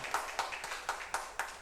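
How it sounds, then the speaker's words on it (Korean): A church congregation claps in encouragement, a soft, steady rhythm of evenly spaced claps at a moderate pace, faint and fairly close, with no voices over it. "우리 격려의 박수 한번 위로의 박수 하겠습니다"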